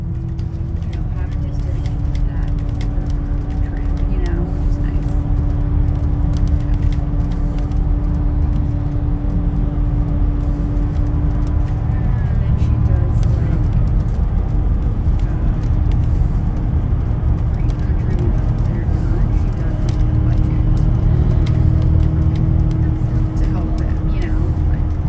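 A 2018 Alexander Dennis Enviro500 diesel double-decker bus of GO Transit drives along, heard from inside as a steady, loud engine drone and road rumble that continues throughout without pause.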